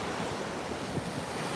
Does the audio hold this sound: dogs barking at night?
no